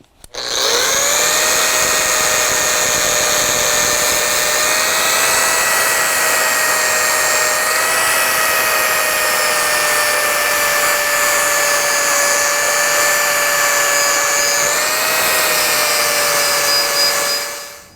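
An angle grinder fitted with a specialty disc grinding and cleaning aluminum: a loud, sustained high-pitched whine running nearly eighteen seconds, the pitch dipping slightly as the disc bears into the metal, close and uninterrupted.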